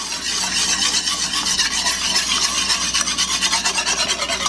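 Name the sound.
whisking warm milk into flour and butter mixture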